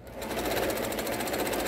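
Close and steady, a sewing machine stitches the fabric wing of a chicken-shaped doorstop, a rapid even mechanical whir that holds throughout without any talk.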